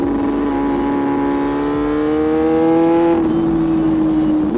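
A loud Yamaha R6 sport motorcycle engine roars steadily while riding, its pitch climbing through a long pull before easing slightly and holding at a high drone.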